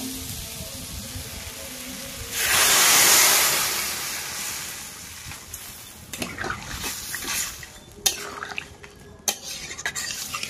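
Water poured into a pan of crab curry with pumpkin, producing a brief rushing splash and sizzle, followed by utensil clinks and stirring in an outdoor cooking setting.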